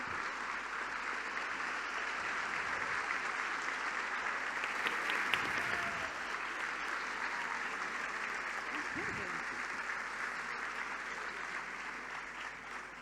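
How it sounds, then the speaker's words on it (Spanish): Sustained audience applause at an evening economics event as invited officials are welcomed, steady crowd clapping throughout with faint voices mixed in. "Fuerte aplauso."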